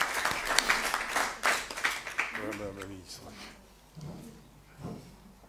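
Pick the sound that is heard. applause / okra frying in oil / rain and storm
applause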